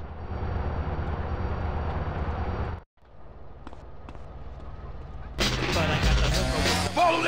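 A train in the game GTA San Andreas on Android rumbles loudly in a dense, noisy roar that drops out briefly, returns quieter, then surges into a louder, harsher burst.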